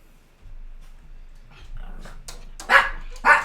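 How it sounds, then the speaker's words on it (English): A dog barks indoors near a small desktop 3D printer, with soft shuffling and faint whines followed by two loud, close barks toward the end. "And dog again."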